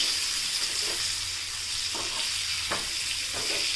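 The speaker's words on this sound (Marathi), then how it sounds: "आता यांना आपण फायनल पूर्णपणे खालच्या साईडून फ्राय करून घेऊयात" Fresh bangda mackerel frying crisp in a pan of hot oil, a loud, steady, dense sizzle and hiss throughout, with a few faint scrapes of the pieces being turned.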